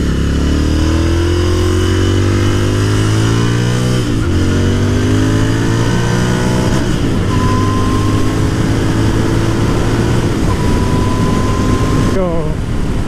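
Royal Enfield Interceptor 650 motorcycle engine while riding at speed, a steady loud drone with rising and falling tones as it shifts and accelerates, wind rush throughout and a rider talking over it.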